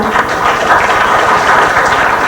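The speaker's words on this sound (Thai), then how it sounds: "ปรบมือให้ดังๆเลยค่ะ" A Thai television audience gives loud, steady applause to welcome a performer onto the stage. The dense clapping holds evenly throughout, with no voices over it.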